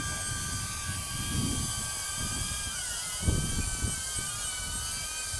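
A DJI Avata drone flies in sport mode, its rotors giving a steady, high-pitched whine with wavering tones that runs continuously throughout. A few low thumps and rustles sit close by beneath it.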